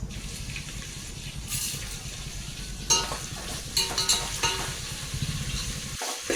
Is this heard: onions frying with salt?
yes